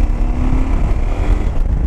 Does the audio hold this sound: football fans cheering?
no